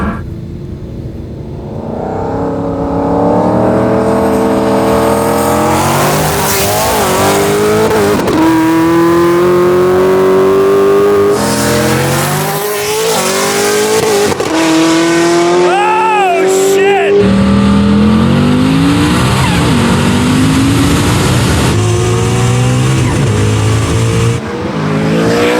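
Cars accelerate hard side by side in a 40 roll race, engines roaring loud and close with rising pitch through repeated gear shifts, and people's voices audible over the roar.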